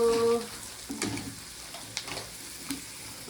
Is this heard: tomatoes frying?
yes